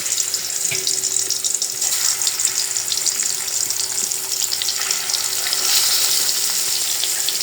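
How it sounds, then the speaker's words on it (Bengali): Spiced fish frying in hot oil in a kadai, a constant close crackling sizzle that swells slightly toward the end, with no voices. "মাছটা আগে ভেজে নিব"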